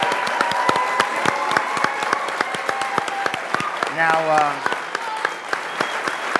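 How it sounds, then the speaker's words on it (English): Applause for a contestant at a Game of Thrones fan quiz show, sparse distinct claps from a small audience ringing out over a voice, with a brief musical sting partway through. "Big round of applause for Liam here."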